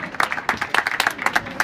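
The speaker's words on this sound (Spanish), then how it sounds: "¿dónde están las palmas que nosotros no hemos escuchado bien?" An audience at a Chacas festival claps in a brisk, uneven burst of applause, moderately loud and close, short and lively with no voices over it.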